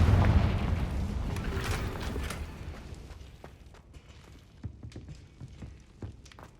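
In the Hogwarts Legacy video game, a Confringo blasting spell sets off a heavy booming explosion that opens loud and low, then rumbles and fades away, with scattered small crackles and debris taps afterward.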